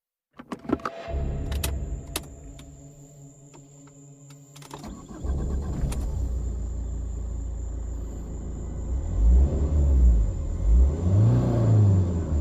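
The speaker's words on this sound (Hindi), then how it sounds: "मैं गाड़ी बैक करता हूं।" A car in a forest setting starts up and reverses. Clicks and a brief mechanical whir come first, then a low engine rumble grows steadier and louder, with deep throbbing swells near the end.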